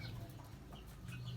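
Talisayin chickens cluck softly in a short, faint burst of scattered farmyard calls.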